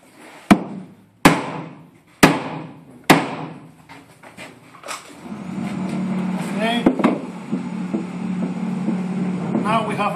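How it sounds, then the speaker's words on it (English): Four sharp, loud strikes spaced about a second apart, a hammer hitting wood while straightening a wall, followed by a steady low rumble with scattered clatter and bits of talk. "We need to hit it with a hammer."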